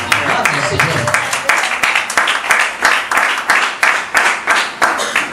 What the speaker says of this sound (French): Donc tu devrais applaudir si ça t'a touché